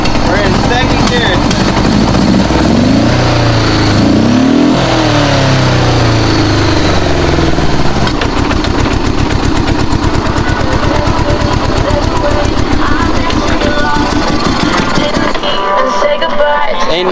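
An old Honda Goldwing motorcycle engine runs loud and close, revving with rising and falling pitch in its first seconds, then settling into a rough, fast, steady rhythmic running with the rear wheel in gear off the ground.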